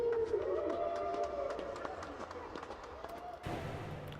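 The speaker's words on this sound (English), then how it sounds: "I took this clapping and then pitched it way down" A clapping sample pitched far down into deep, slowed thuds, layered in a dense electronic mix alongside a sustained synth tone and a sharp change near the end.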